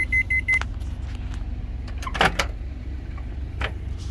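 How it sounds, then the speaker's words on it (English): A 700-watt microwave oven running on an inverter in a truck cab: a steady low mechanical hum drones throughout, opening with a quick run of electronic beeps and later broken by a brief clatter. "3 minutes on a 700 watt microwave on a decent inverter"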